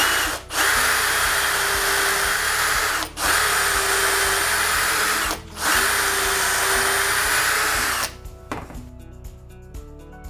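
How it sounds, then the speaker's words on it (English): Triton T2 double mini pocket-hole jig clamped to a table while pocket holes are drilled into wood: three long, loud power-drill runs with short pauses, then the drill stops and faint clicks and handling follow. "it's just a case of clamping it to your table and drilling all the holes"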